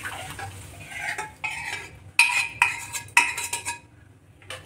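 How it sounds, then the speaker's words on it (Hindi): Palak dal flipped and stirred in a cooking pan, with a spoon scraping and clinking against the metal in several strong strokes over a soft sizzle. No one speaks. "तो अब हम दाल को पलट लेते हैं।"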